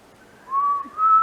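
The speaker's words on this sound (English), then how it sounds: "can you whistle?" A person whistles underground in a flooded mine, two sustained whistled notes with a short break between them, fairly loud and close, with no talk.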